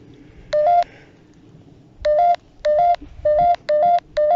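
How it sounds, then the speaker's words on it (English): Electronic beeps sound in a quiet room, one short beep and then a quick run of regular pips, each a clear two-tone chirp, fairly loud and close with no voices. "Something's beeping."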